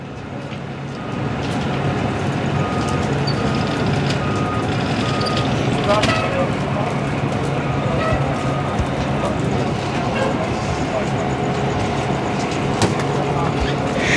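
Fire trucks pull away from a burning 118-year-old historic church in Los Angeles, with reversing beeps repeating over a steady, loud engine and street rumble and voices in the background.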